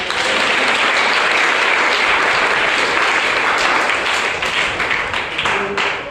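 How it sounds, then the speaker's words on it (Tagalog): Loud, sustained applause fills a church as the whole congregation claps together during a sermon, a thick, continuous roar of hands that holds for about six seconds and eases slightly toward the end. "Palakpak sa iyo"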